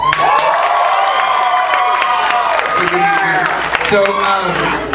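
A comedy club audience in Chanute, Kansas bursts into loud, sustained cheering, whooping and clapping, a dense crowd roar that runs steadily throughout with a few scattered shouts rising above it.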